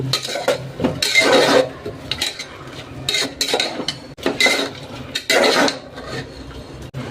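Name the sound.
mint paste being fried and stirred in a pot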